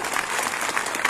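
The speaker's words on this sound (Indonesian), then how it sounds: "tepuk tangan buat semua dulu" A congregation in church claps together in a steady, dense burst of applause, filling the room evenly, loud and close, with no voices over it.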